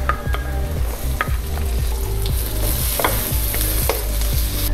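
Minced garlic frying in oil with softened diced onions for a catfish curry gravy, stirred with steady scraping strokes over a continuous loud sizzle, no voices.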